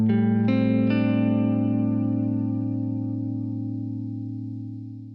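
A sustained minor seventh chord with no fifth and an added eleventh rings out with a heavy, effected tone, a few notes entering in quick succession at the start, then decaying slowly with no voices.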